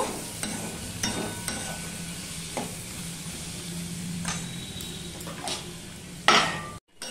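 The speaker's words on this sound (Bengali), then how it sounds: "এটা আবার ভালো করে কষিয়ে নেব।" Tomato and ginger sauté in a pan with a constant sizzle under repeated spatula scrapes and taps on metal, ending in a louder clatter before a brief cut to silence.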